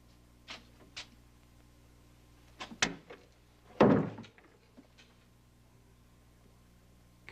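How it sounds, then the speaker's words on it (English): A door is pushed shut in an office room, a few light knocks and rattles leading to a solid thud of the door closing, followed by a faint trailing click in an otherwise quiet space. "Hey, would you close that door?"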